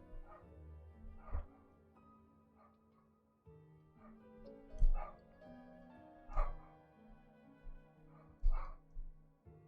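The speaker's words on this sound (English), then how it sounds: "Uh-oh, dog noises." A dog gives repeated short yips, barks and whimpers, several distinct bursts spaced a second or two apart, fairly close over a faint indoor background hum.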